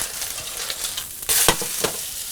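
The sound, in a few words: fish fillets frying in a pan after being turned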